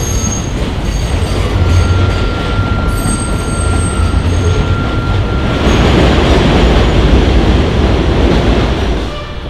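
A train rumbles steadily along the tracks, loud and close, with faint high metallic squeals from the wheels and a continuous low roar throughout.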